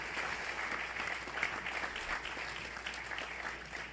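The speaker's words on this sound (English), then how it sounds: "Let's give all of our panelists another round of applause" Audience applause for panelists at the close of a panel discussion, a dense, steady wash of clapping from a sizable crowd that holds at an even level throughout, moderately distant and without speech.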